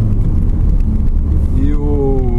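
Citroen Jumpy van with a small engine accelerating on the road, a loud, steady motor drone that rises in pitch toward the end, with a voice talking over it.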